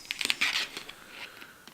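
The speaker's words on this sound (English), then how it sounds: "Cut the thread." Scissors snip thread on a chartreuse mop fly at a fly-tying vise, a quick cluster of sharp, close metallic clicks and cuts followed by a faint trailing rustle, quiet and without talk.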